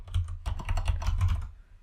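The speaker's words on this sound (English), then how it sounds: "sorry about the clacky keyboard" Fast bursts of typing on a clacky computer keyboard, loud and close, with dense irregular key clicks and thumps that stop near the end and no voices.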